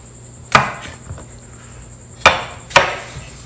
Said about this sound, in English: So I'm just trimming the cucumbers